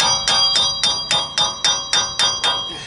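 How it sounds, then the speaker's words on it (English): A car axle is forced out of a wheel bearing on a 2014 Chrysler Town and Country, giving about ten sharp, ringing metallic strikes at a steady rhythm, close and loud, with no talking. "Just gonna push that axle back out of there."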